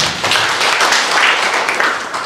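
Applause from a Good Friday church service congregation, a steady burst of clapping lasting a couple of seconds.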